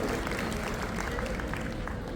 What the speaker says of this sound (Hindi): जोरदार तालियां मार के उन्होंने स्वागत करो